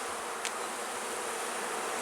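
Honeybees buzz at an open hive with capped brood, a steady, fairly faint hum holding evenly throughout with no voices.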